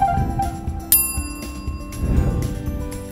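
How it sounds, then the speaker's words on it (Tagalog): A YouTube-style notification bell sound effect rings out clearly, bright metallic dings with a sharp strike near the middle, standing alone without talk over a faint low background. "meron na tayong sound effects para sa ating like, subscribe, at hit the notification bell"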